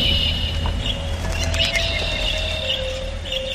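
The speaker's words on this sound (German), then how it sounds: "Weiße, fahle Vögel. Sie kommen durch die Nebelwand und umkreisen unser Schiff." Pale white birds circle a ship coming out of a fog bank in an audio drama: scattered chirps and calls ring out over a low, steady drone, with no speech.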